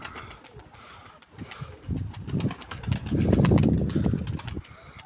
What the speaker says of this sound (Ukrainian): Це літуча голубка пролітала, залітала.